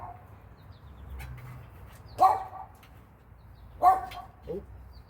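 A dog barks twice, a few seconds apart and at moderate distance, with a softer yip after the second bark over a quiet background hum.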